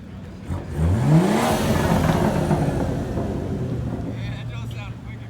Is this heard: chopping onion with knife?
no